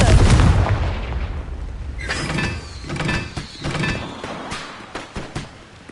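A Confringo spell blast in the game Hogwarts Legacy hits with a heavy booming burst up front, then rumbling debris, crackles and mechanical clatter fading over several seconds, loud and close.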